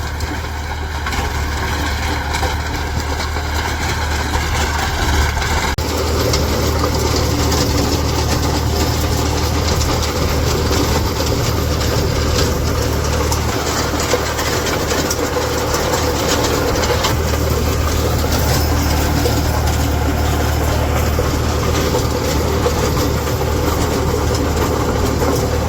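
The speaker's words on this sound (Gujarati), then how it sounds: "હવે આપણે ટ્રેક્ટરમાં બેહી હમણાં, તો જો ટ્રેક્ટર આવે જ છે" A tractor engine runs in a farm field, a loud, steady, close diesel drone that holds without pause, with a slight shift in tone partway through and no speech.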